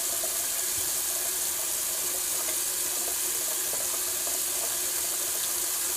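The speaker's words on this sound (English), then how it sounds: "I'm just going to rinse out my sink." Tap water runs steadily into a bathroom sink as it is rinsed out, a continuous close hiss and splash with no talking.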